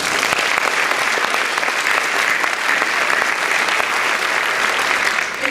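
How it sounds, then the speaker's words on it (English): A large audience at an entrepreneurs' event applauds loudly and steadily, a dense wash of clapping that holds for several seconds without letting up. "Let's give them a round of applause."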